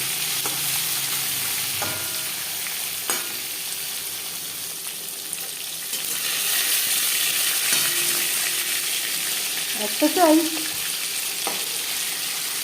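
Oil sizzles and crackles steadily in a wok as katla fish fries, with a few scraping clinks of a utensil and a brief spoken phrase.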